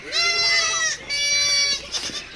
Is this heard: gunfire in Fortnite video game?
no